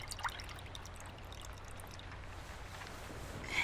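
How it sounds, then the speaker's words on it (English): A wet cloth is dipped and wrung in a bowl of water in a quiet ASMR roleplay room, giving faint, close trickling and dribbling that builds slightly toward the end. "I'm just going to clean the wounds with this bowl of water and this wet cloth"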